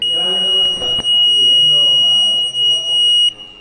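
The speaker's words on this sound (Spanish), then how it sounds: "en activo el zumbador tiene que ser 1" A steady, high-pitched electronic buzzer tone sounds continuously under someone speaking, then cuts off abruptly near the end.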